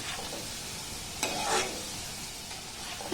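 Gulab jamun sweets fry in oil over a low to medium flame, giving a soft steady bubbling hiss with a short burst of louder crackle and stirring early on.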